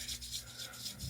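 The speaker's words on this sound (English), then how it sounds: "if I rub my hands together until they're warm, that makes the oil like penetrate the hair" Hands coated in hair oil rub briskly together in steady back-and-forth strokes, close and soft, with no talking.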